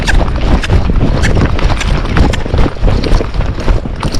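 Hoofbeats of a Tennessee Walking Horse cantering under a rider in training, a steady loud rhythmic clip-clop filling the whole stretch, with no talk over it.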